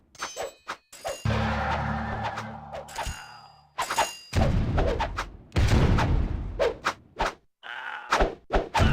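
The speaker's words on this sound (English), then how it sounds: "The French barracks and stables are of no use to us. Have your troops destroy them." Troops in the Rise of Nations strategy game demolishing captured French barracks and stables: a chaotic run of thuds, sharp impacts and gunfire-like cracks, with sustained rumbling crashes between, loud and close, no talk.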